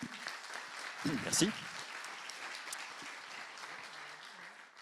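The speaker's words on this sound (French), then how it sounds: "On peut donc l'applaudir au moins pour cela." Faint applause from an audience at a talk on computer vision in agricultural robotics, a brief soft patter with a short spoken word near the start.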